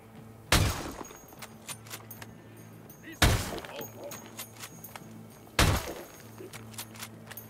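Three loud, sharp bursts of enemy gunfire a couple of seconds apart in Ghost Recon Wildlands, each with a crack and a short decaying tail, over steady game ambience and faint scattered clatter.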